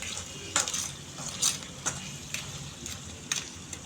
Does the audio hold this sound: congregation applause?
no